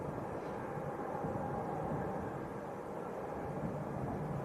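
Ryanair Boeing 737-800 taxiing at Leeds Bradford Airport, a steady low jet-engine rumble and hiss that holds level and fairly near throughout, with no talk.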